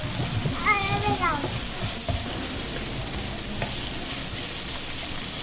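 Pasta fries in a pan with a steady, close sizzle and occasional stirring scrapes. A voice cuts in briefly near the start.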